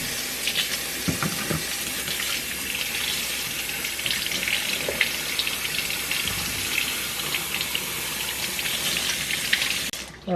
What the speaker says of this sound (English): then we're going to give that a rinse